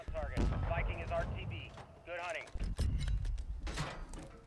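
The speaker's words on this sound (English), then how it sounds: "Whoa, that is an airstrike." Airstrike explosions in the video game Call of Duty: Modern Warfare land as heavy booms and sharp blasts amid excited talking and game chatter.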